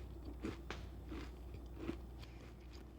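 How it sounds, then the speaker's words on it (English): Crunchy homemade baked granola being bitten and chewed close up, several distinct crisp crunches spaced across a few seconds against a quiet background. "Can you hear that crunch on camera?"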